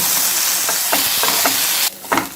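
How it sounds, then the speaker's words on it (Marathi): Masala of browned onion, tomato and coriander sautéed in a pan for Kolhapuri mutton, a loud dense sizzle with several quick stirring scrapes, the hiss dropping abruptly near the end before another stir. "टोमॅटो, कोथिंबीर ही घालू आणि टोमॅटो थोडा मऊ होईपर्यंत मसाला परतून घेऊ"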